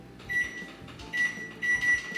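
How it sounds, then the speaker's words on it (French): A microwave oven runs at 800 watts as its steady hum and drone carries throughout, with a sustained high tonal whine swelling in a few louder stretches, close and alone. "au micro-ondes à puissance 800 pendant 3 minutes"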